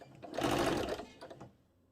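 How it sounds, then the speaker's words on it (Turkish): A sewing machine stitches a fabric table runner, a close mechanical whir of rapid stitching that runs for about a second, then stutters briefly and stops, with no talking. "Şimdi ikinci kısmı dikiyorum. Bunu da komple dikeceğim."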